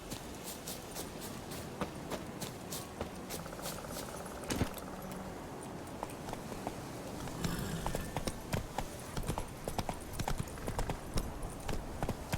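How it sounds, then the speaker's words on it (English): Rhythmic hoofbeats of a horse galloping in the video game The Witcher 3, steady clip-clop over a constant background rumble, getting busier toward the end. "Got a horse there."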